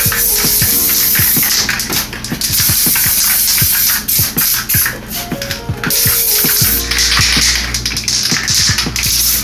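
Aerosol spray paint can laying down graffiti through a stencil: a close, loud hissing spray in repeated bursts, broken by short gaps and sharp clicks of the nozzle and can.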